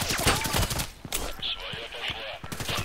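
Gunshots in the video game Contract Wars, a quick volley of sharp automatic shots up front followed by scattered single cracks and game effects, with a voice talking briefly.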